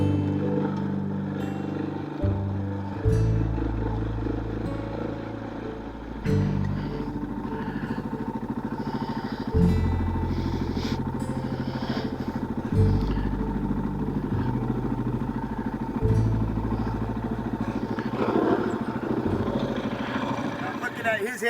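A KTM motorcycle is ridden off-road through desert washes on a backcountry dirt road in Big Bend. The engine drones steadily and close by, with its pitch rising and dropping in repeated stepped shifts, while a rider speaks over it.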